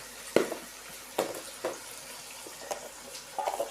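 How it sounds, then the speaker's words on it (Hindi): Peas frying in a pan for matar pulao, with a soft sizzle broken by several sharp scrapes and clatters of stirring at irregular intervals. "मटरों को ज़्यादा देर फ्राई नहीं कीजिएगा"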